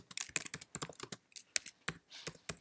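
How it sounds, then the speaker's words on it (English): Typing on a computer keyboard, close and quiet, with rapid irregular clicks of keys in short bursts and brief pauses between them, no voices. "So I'll begin typing here."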